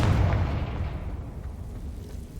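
Confringo blasting spell detonating in Hogwarts Legacy: a loud, close explosive boom at the start, its heavy low rumble slowly decaying across a couple of seconds, with no voices.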